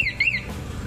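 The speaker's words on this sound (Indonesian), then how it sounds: "Alarm." A CR7 remote alarm fitted to a Vespa scooter gives a short, loud, close warbling electronic chirp in two quick rising-and-falling sweeps, then cuts off to low background rumble.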